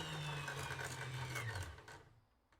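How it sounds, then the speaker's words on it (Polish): Sewing machine winding thread onto a bobbin, a steady close whirring hum with a mechanical drone that runs evenly and then winds down to a near stop at the end, with no talk. "nitka na szpulce nawija się równomiernie góra-dół"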